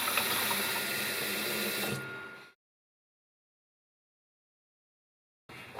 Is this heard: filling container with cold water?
yes